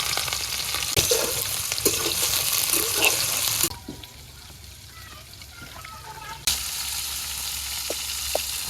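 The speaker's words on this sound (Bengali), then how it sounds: "মাছ ভাজা হয়ে গেছে, মাছ এক পাশ হয়ে গেছে" Fish sizzles in hot oil alongside chopped onion, garlic and green chili, a close, continuous crackling fry that drops quieter midway and then returns at full strength.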